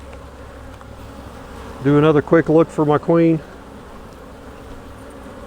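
Honeybees buzz steadily around an opened hive during a queen cell transplant split into a nuc box, a close, continuous drone that runs under a short stretch of speech.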